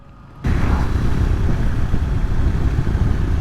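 Triumph Scrambler 400 X motorcycle engine on a steady economy run, starting abruptly after a brief quiet moment and then holding a loud, continuous low drone with faint clatter and wind throughout.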